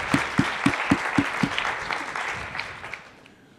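A lecture audience applauds in a short burst, a handful of sharp claps at first that blur into brief scattered clapping and quickly fade out.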